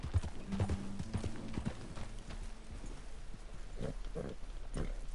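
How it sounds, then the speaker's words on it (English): Horse hooves clopping in a video game: repeated rhythmic clip-clop steps in short bursts over a constant background hum, near and moderately loud, with no talking. "Vamos amarrar o cavalo."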